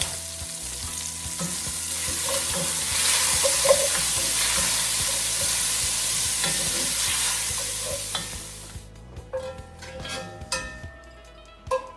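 Bacon renders in a cast iron pan for a rabbit-with-prunes dish, hissing in a loud, even sizzle for about nine seconds that then drops away, leaving scattered metallic clinks and taps from a slotted spoon lifting pieces out.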